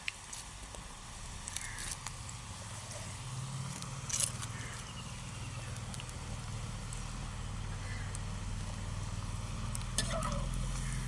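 Pakoda fritters frying in hot oil give a steady, low sizzling bubble with faint stirring and a few light clicks of a utensil, continuous and moderately quiet throughout with no talking.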